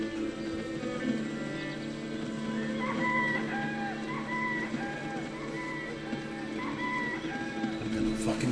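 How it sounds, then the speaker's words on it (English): A rooster in the video game Arcanum crows and clucks repeatedly in a game soundscape, with several short calls over a steady background hum and no talking. "I'm gonna fucking kill that rooster!"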